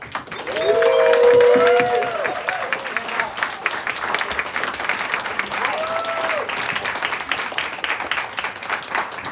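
Students in a room clap and cheer, with whoops and shouted voices rising over a swell of applause that peaks early and then continues as lively, scattered clapping.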